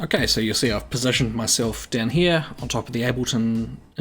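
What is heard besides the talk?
None of the usual background noises is heard.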